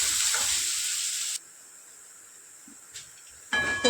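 Onions frying in a pan with a green chilli give a bright, steady sizzle that cuts off abruptly partway through, leaving near silence, then the sizzle returns loudly with some clinks near the end.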